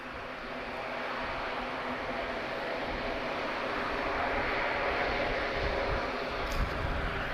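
An aircraft at Madeira Airport running its thrust reversers, a sustained broadband engine roar that swells slightly and holds steady, heard from a distance with no talking.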